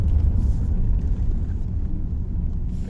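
A Toyota Crown UZS131 with its 1UZ-FE V8 cruises along, a low, smooth, steady rumble of engine and road noise heard from inside the cabin, with no talk over it.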